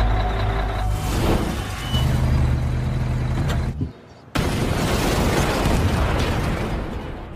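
A film explosion bursts out after a stretch of rumbling action noise, with a brief near-silent gap before a loud, broad blast and debris roar that sustains to the end.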